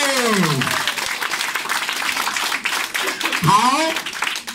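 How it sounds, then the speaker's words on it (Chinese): Audience applause rises at a one-day training course, a steady broadband clatter of many hands running under a voice and other people speaking throughout. "来，给他掌声鼓励。"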